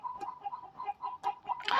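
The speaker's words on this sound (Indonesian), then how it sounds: "maaf berisik nih suara ayam lagi pesta mereka" A group of chickens clucks noisily and rhythmically nearby in a rapid, busy chatter, with a louder scratchy burst at the end and no talk.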